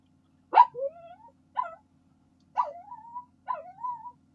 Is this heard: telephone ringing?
no